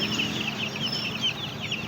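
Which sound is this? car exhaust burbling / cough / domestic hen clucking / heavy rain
domestic hen clucking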